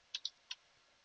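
Three faint, quick clicks of keys being pressed on a computer keyboard in a quiet room, two close together and one shortly after.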